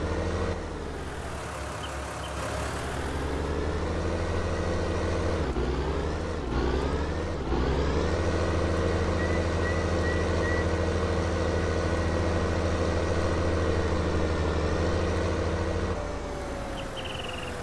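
Truck engine in the Farming Simulator 19 video game pulling through four gears, revs dropping with each shift after a brief pause, then steadily climbing again, loud and continuous.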